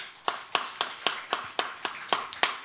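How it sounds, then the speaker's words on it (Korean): A church congregation clapping slowly in unison during a Sunday service, about ten evenly spaced claps that sound fairly faint and a little distant, with no talk over them. "박수 한번 칩시다."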